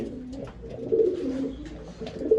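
Pigeons in a loft coo softly and continuously in a low, throaty murmur at close range, with no talk.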